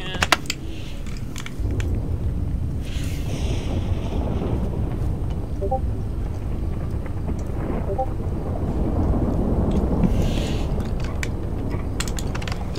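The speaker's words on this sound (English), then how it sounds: "It's thundering" Low rolling thunder rumbles through outdoor wind and background noise during a brewing storm before rain, with scattered voices talking around it.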